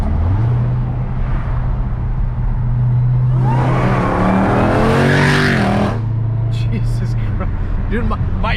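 A 900-horsepower Dodge Durango SRT Trackhawk with its catalytic converter deleted roars up close, its exhaust rising to a loud snarling rev in the middle before dropping back to a deep rumble.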